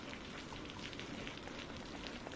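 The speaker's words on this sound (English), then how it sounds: "The sound of rain on the station's tin roof filled the pause, soft but relentless, like fingers drumming on a desk." Steady rain drums on a tin roof at a ranger station, a soft, continuous patter that fills the space evenly with no voices.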